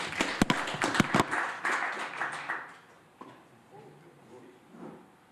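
At a PhD school event on IoT and autonomy, a handful of sharp hand claps ring out close by in a quick burst, then fade into quiet room noise.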